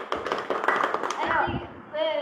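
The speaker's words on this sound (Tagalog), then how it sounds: "Palakpak!" A small group of people in a live stream claps on cue, a quick burst of sharp hand claps mixed with voices talking and laughing over it.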